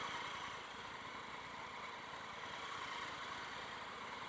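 A Triumph Tiger 800 XCx motorcycle engine revs steadily on a street ride, a continuous loud drone with rough low-end rumble and no pauses, heard close up with no talking.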